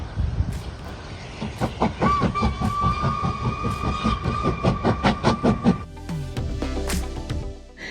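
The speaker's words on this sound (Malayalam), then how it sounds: "നമ്മൾ കാത്തിരുന്ന ജാക്കബറ്റ് സ്റ്റീം ട്രെയിൻ ഇതാ വരികയാണ്." The Jacobite steam train approaches the Glenfinnan Viaduct with rhythmic, chuffing exhaust beats and a long whistle, followed by rolling wheel clatter and hissing steam.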